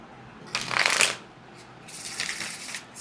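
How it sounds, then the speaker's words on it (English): Tarot cards being shuffled in two quick riffling bursts, a louder one near the start and a softer, longer one after a short pause, close up with no talking. "Let's give it a good shuffle for you."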